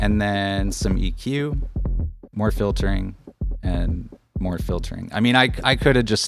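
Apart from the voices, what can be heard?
No everyday noise stands out behind the speech.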